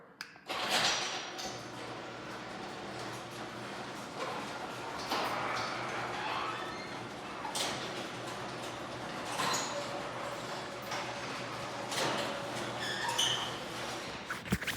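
A motorized garage door runs on its opener, giving a sustained low drone with scattered clicks, taps and light rattles as the panels move, close by and steady throughout with no voices.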